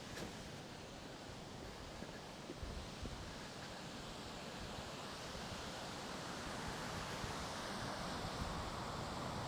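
Waves washing against the Lake Superior shore, a broad steady rush of surf mixed with wind, fairly faint and continuous with no voices.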